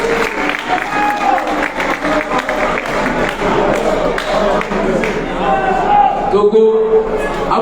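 At a Paris rally for Mali, a crowd claps and cheers in a busy, reverberant wash, voices mingling with the applause throughout at a fairly loud level.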